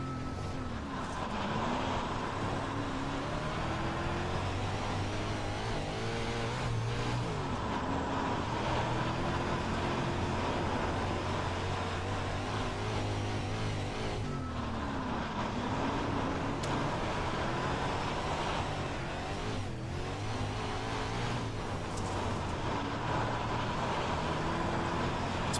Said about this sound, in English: That was the non-wing 360 sprint car here at Kern County Dirt Track.